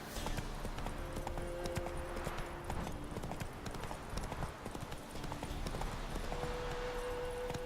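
A horse's hooves clip-clop at a steady trot in The Witcher 3, a brisk, even stream of hoof beats heard under the game's ambient sound.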